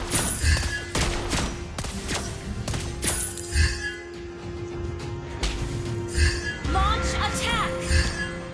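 Gunfire in Mobile Legends rings out in sharp bursts and single shots, mixed with metallic clinks and thuds while a voice speaks over the action.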